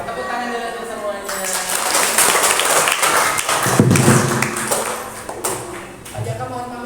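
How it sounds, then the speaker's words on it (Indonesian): Children clap their hands in a loose, uneven burst that swells and fades over several seconds, with voices talking over the clapping. "Tepuk tangan dulu untuk semuanya."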